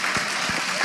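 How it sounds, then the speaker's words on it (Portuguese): Brief burst of audience clapping in a live Portuguese-language podcast, a few distinct claps over a background of room noise and voices. "Bate palmas, gente."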